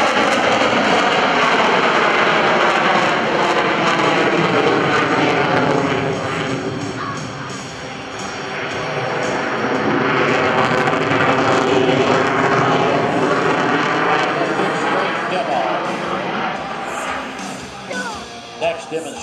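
An F/A-18C Hornet fighter jet roars through an airshow demonstration, its loud broadband engine noise sustained throughout, dipping briefly mid-way and then swelling again as it maneuvers, with a voice talking over it.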